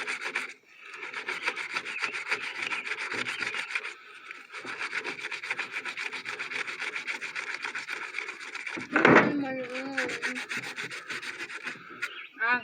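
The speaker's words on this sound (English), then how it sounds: "Take your sandpaper, sand it around at the edges as best you can there." Sandpaper rubs by hand around the edges of a DeWalt planer part in repeated close, gritty strokes with brief pauses, then a short sharp scrape and squeak near the end.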